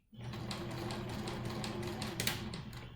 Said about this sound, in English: You're going to stitch 3 stitches and then back stitch.